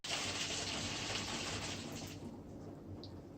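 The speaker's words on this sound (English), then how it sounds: "I'm going to put more water in because that looks thick" Water gushes from a tap into a drink bottle already holding powdered drink mix, a fairly quiet steady pour that eases off toward the end, with no voices.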